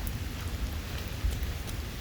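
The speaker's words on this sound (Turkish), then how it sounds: "Of yağmur çok aktı ya." Heavy rain pours steadily over a city street in New York, a dense, constant wash of hiss with low rumbling patter and a few louder splashes, no voices.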